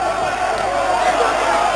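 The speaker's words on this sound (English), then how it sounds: "Full crowd here." Dense roar of a 13,000-strong boxing arena crowd at the Camacho vs Mancini fight, a steady loud wash of voices and cheering that runs unbroken through the whole moment.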